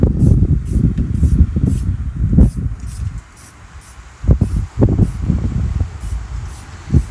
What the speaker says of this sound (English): I'm doing quick, light sprays.